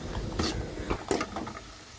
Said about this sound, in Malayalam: ഇനി നമുക്ക് രസത്തിന് ആവശ്യമായിട്ടുള്ള ഉപ്പ് ഈ ഒരു സമയത്ത് ചേർത്ത് കൊടുത്തിട്ട് നന്നായിട്ട് ഒന്നും കൂടി ഒന്ന് വഴറ്റിയെടുക്കണം